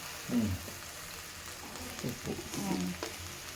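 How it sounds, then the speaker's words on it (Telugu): Green and dried chillies simmering with jaggery in hot water, giving a faint, steady bubbling sizzle with a few soft stirring clunks. "మంచిగా వేడి నీళ్ళలో ఉడుకుతాయి"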